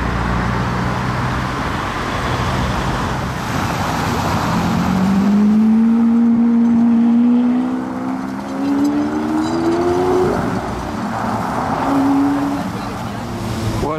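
A Lamborghini Aventador V12 on a Paris street roars past nearby, its engine note rising into a loud sweeping tone that peaks and fades, under steady traffic noise.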